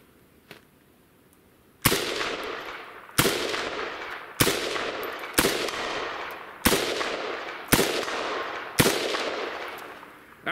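A ZPAP underfolder rifle fires corrosive 124-grain remanufactured ammunition in seven evenly spaced sharp shots, each a loud close crack followed by a short decaying echo, with no talk.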